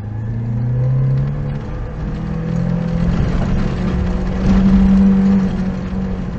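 An off-road SUV engine drones and revs on a snowy hill climb, alternating between full and half throttle, with a steady loud rumble that rises in pitch and swells near the end, no voices.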